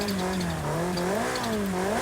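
A Ferrari engine in the racing video game Forza Horizon 5, played on an Xbox Series S, gives a loud, steady droning note that rises and falls gently as the revs shift, with no speech over it.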